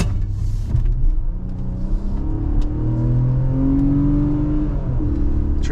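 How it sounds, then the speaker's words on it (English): A 2022 Infiniti QX60 accelerates hard, its engine note climbing steadily through the gears in a smooth, loud, close-up cabin hum with no talking. "So we'll give you a little taste of what the acceleration is like."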